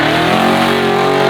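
A Chevy Chevelle wagon's 396-cubic-inch small-block stroker V8, with Brodix heads, a roller camshaft and a 750 Holley carburetor, revs loud and close in a steady, harmonically rich roar.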